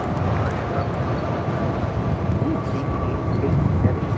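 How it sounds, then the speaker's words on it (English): An Avianca Airbus A320neo jet takes off at LAX, a loud, steady roar of engine noise that fills the whole stretch without letting up. "Avianca 525 taking off to San Salvador on an A320 Neo."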